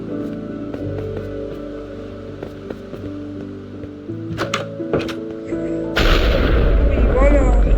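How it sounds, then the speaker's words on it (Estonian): Loud thunder crashes in a Minecraft storm, with sharp booming cracks over a steady droning background, building to a heavy rumbling burst near the end. "Äikese torem on ikka päris kõva."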